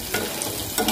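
Potatoes fry in a pan with a steady, close sizzling hiss and a few soft stirring scrapes, no voices.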